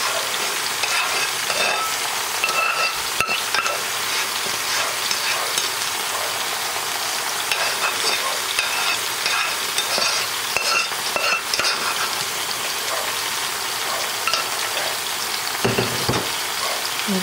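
Salisbury steak in gravy simmers and bubbles in a pan, a loud, steady sizzling hiss throughout with occasional stirring scrapes, close and without speech.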